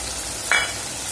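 Bitter gourd curry with tomato cooking in a pan, a steady soft bubbling simmer with one brief louder pop midway, close and without talk.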